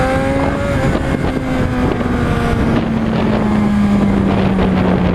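Motorcycle engine held at steady high revs with a rising-then-falling pitch as the clutch is popped for a wheelie, loud and close with wind buffeting over it.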